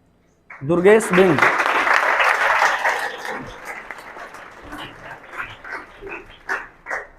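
Applause for a ninth-grade student placed third at a coaching centre results celebration, a burst of clapping from a group that fades into scattered claps, with a voice speaking at the start.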